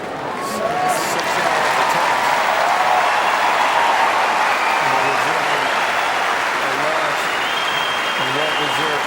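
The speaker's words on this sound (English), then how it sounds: "Well-deserved amount of applause for Amelie Mauresmo for that effort." Wimbledon 2004 semi-final crowd applauds Amelie Mauresmo on grass court after her match with Serena Williams, a sustained, broad wash of clapping from a large stadium audience with faint voices beneath.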